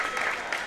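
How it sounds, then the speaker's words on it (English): Crowd in a gym at a girls' high school basketball district championship gives a short burst of applause, a steady wash of clapping. "Stutzman is out and gets a well-deserved round of applause"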